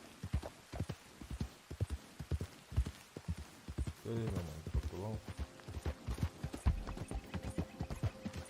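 Horse hooves clip-clop steadily in Red Dead Redemption 2, a western video game, with a brief whinny partway through and a voice talking over the hoofbeats.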